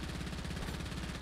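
Rapid video game gunfire, a fast steady burst of evenly spaced shots, fairly faint and continuous before cutting off abruptly.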